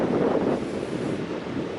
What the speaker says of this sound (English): it's cloudy and the breeze is quite strong. I'm sure you can hear it in the microphone.